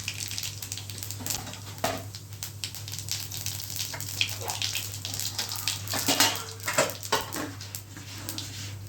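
Cumin seeds crackle and sizzle in hot oil as a tempering for dal fry, a busy, close spitting texture with a few utensil clinks over a low steady hum.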